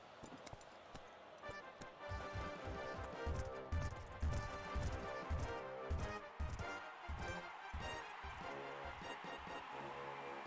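Racehorses' hooves drum on the track in the Gallop Racer 2004 video game, a quick rhythmic clip-clop pattern over a background music bed.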